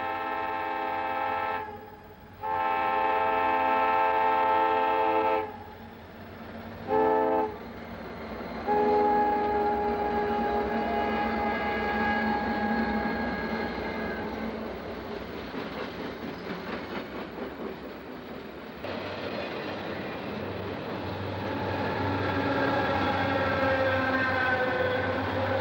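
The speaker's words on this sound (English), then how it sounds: "we find a blue B&O GP40 leading the SLTT trailer train through" Blue B&O GP40 diesel locomotive leading a trailer train through town, with loud sustained multi-tone horn blasts, a brief gap and more blasts, then engine rumble and rolling cars.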